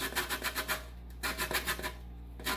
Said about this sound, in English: you're just going to grate this and get all the rind, the zest from the orange